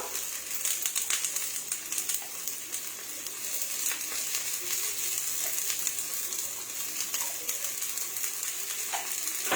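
Sabudana vada sizzle in oil on a flat pan, a steady soft crackling hiss with small pops throughout, close and fairly quiet, with no talk.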